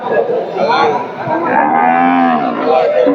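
A cow moos loudly and close at a cattle market, one drawn-out low call over a busy background of crowd noise and chatter.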